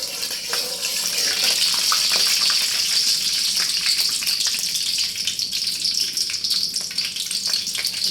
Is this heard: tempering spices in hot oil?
yes